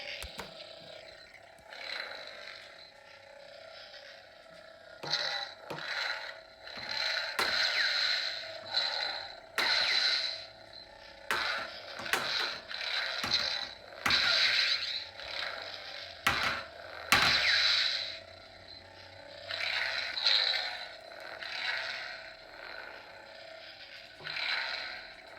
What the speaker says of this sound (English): We'll try some clash sounds.